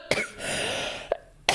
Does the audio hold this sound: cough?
yes